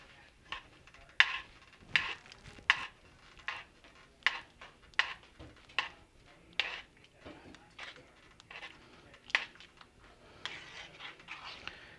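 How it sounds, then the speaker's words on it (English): Turkey pot pie filling being stirred in a pot, with a spoon scraping and knocking against the pot in a loose rhythm of a dozen or so strokes, close and moderately quiet. "And I'm going to stir this."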